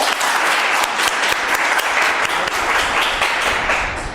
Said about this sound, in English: Please give a round of applause for yourselves.